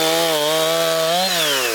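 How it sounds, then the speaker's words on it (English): Chainsaws run continuously while cutting up trees downed by a storm in a mobile home park, the engine whine loud and steady with small shifts in pitch as the saw bites. "The sounds of chainsaws echo throughout the Fairlane Mobile Home Park"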